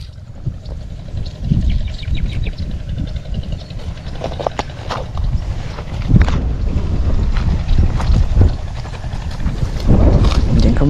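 Wind buffets a small fishing boat on open water, a loud, rumbling gusty roar with bumps and knocks, while someone speaks intermittently over it.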